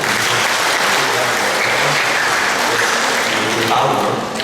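Loud, sustained clapping from a congregation at a Sunday Mass, a thick continuous wash of hands with a faint voice murmuring underneath, swelling slightly near the end before trailing off.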